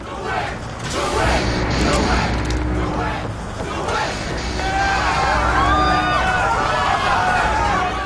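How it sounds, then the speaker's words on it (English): A game crowd in BioShock Infinite cheers and yells in a busy, loud mass of voices and whoops, with a continuous babble and scattered shouts throughout. "I think they're cheering for me, even though I'm supposed to be dead."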